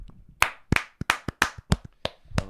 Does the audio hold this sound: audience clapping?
yes